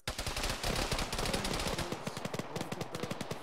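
Rapid automatic gunfire in an Arma ShackTac game session, dense bursts of loud close shots running almost continuously, then thinning into separate cracks near the end.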